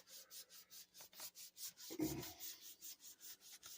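Rhythmic rubbing strokes on a magic stick electroscope, a steady back-and-forth scraping repeated about every third of a second, close and faint, with no talk.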